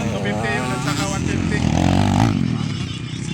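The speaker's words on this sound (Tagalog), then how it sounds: "Malaki yung motor na ginagamit ni Sierra" Motocross motorcycles of 150 and 250 cc race in a kids' open heat, their engines droning and rising in pitch under constant loud commentary.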